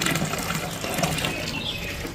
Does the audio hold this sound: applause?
no